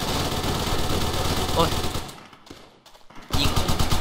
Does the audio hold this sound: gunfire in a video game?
yes